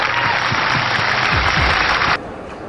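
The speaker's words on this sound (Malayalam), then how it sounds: "ഈ രണ്ടുപേർക്കും നന്നായിട്ട് കൈയടിച്ച്." An audience claps for two people at a live event: dense, steady applause lasts about two seconds, then cuts off abruptly and leaves quiet room tone.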